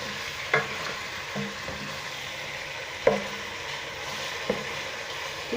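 Fish sizzles steadily in a pan while cooking for Sindhi fish pulao, with a few sharp clinks and scrapes of a utensil as pieces are turned. The frying hiss stays even and close.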